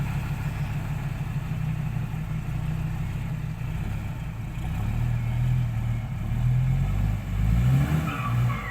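A car reverses with its front wheel stuck, its engine droning loud and close, the revs swelling and surging in uneven pushes toward the end.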